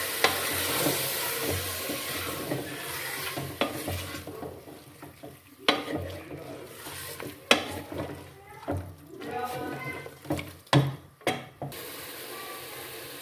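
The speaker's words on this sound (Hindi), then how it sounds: "अब इसमें हम टमाटर डाल लेंगे और इसको भी हम अच्छे से मिक्स कर लेंगे।" Tomatoes being stirred and fried in a pan for karela chicken, with a soft sizzle under repeated spoon scrapes and clanks against the pan, some louder knocks standing out.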